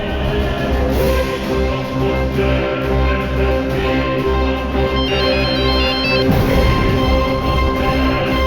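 A mobile phone ringtone plays on and on unanswered in a hospital setting, a bright repeating melodic tone sounding loud and steady with no voices over it.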